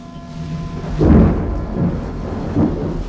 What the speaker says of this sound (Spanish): Aquella fue una tarde nublada llena de truenos